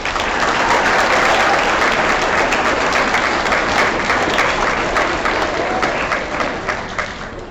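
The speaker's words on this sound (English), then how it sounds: "Give them another round of applause, please." A school awards program audience applauds its top overall citizens with steady, loud, sustained clapping that slowly tapers toward the end.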